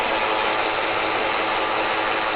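A ratchet works a nut on a stud on a 2011 Jeep Patriot 2.4L during crank sensor replacement, a dense, loud, continuous clicking close by with no pauses.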